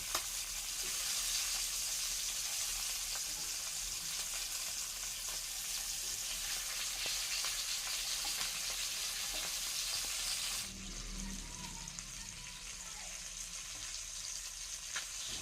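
Magur catfish pieces fry in hot oil with a steady, dense sizzle that fills the whole stretch, shifting to a lower, softer bubbling near the end; no one speaks.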